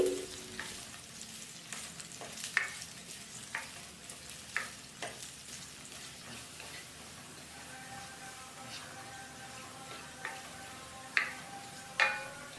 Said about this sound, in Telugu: ఇందులోకి అల్లం ముక్కలను యాడ్ చేసుకొని కదుపుతూ లో టు మీడియం ఫ్లేమ్లో ఒక ఏడెనిమిది నిమిషాల పాటు వేయించుకోవాలి